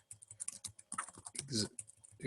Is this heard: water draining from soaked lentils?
no